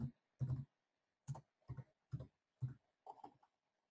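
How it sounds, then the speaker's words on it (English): Seven separate soft key clicks on a computer keyboard as a postcode is typed, each a short tap spaced unevenly over a few seconds, quiet and close with silence between. "So here I'll type in postcode."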